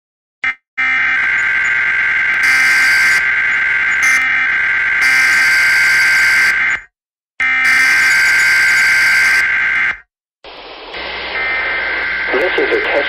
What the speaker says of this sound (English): this is a test of the National Weather Service's radio warning tone alarm